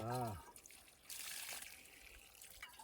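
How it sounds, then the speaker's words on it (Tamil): A steady soft trickle of cold running water at a night campsite in the Nilgiri hills fills the clip after a brief voice at the start, with a faint splashing hiss. "தண்ணி நல்லா வருது நினைக்கிறேன்ல"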